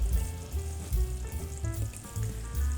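Masala of red chilli powder, salt and turmeric sizzles and fries steadily in a pan for an egg gravy, with a continuous close crackle and faint stirring scrapes, no talking.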